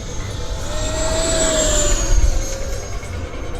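An FMS Hawk 80mm electric ducted-fan RC jet flies past with a steady, loud whining roar whose pitch slowly rises and then dips, plus wind buffeting at the microphone.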